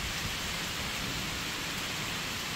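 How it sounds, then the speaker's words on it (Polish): A heavy downpour seen from a balcony after a thunderstorm gives a loud, constant, even rushing hiss of rain with no pauses and no voices. "I teraz mamy taką ulewę."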